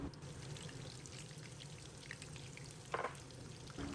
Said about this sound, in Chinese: 油温上来以后，就可以把火调小，改开中小火，把虾仁放进去。